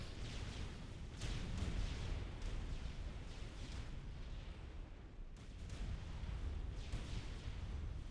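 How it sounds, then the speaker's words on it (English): Battleship artillery in Supreme Commander: Forged Alliance booms in a steady barrage, dull rumbling blasts and bursts rolling one after another at moderate loudness with no talk over them. "I've been pounding on him with untold numbers of battleships"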